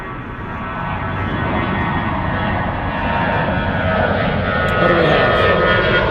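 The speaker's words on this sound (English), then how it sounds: "that's not a 767, that's the big 777 flying to" A Boeing 777 airliner departing Zurich airport roars steadily with broad, continuous jet noise that swells slightly louder near the end, while a person speaks briefly over it.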